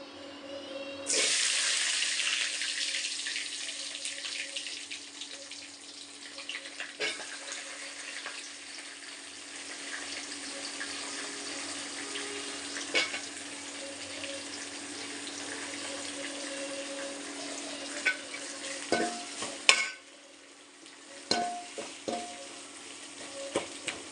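Onion and garlic fry in a pan with a steady broad hiss that kicks in sharply and holds for over twenty seconds, with occasional clicks and scrapes of stirring toward the end and no voices.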